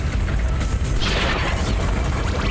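Grenade launcher blasts in the vehicular combat game Twisted Metal 4, heavy booming explosions overlapping with deep low rumble and crackling debris, loud and continuous across the short stretch.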